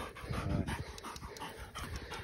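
A dog out lamping pants rapidly in quick, rhythmic breaths, close and fairly quiet.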